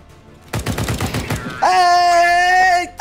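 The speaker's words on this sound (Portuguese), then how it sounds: "Que tiro certeiro na cabeça foi esse" A rapid burst of gunshots in the video game CS:GO fires in quick succession, ending in a headshot, followed by a steady, ringing electronic tone.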